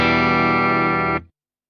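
A clean electric guitar chord rings out through Fender effects pedals, sustaining evenly at full volume for just over a second before being cut off abruptly into silence.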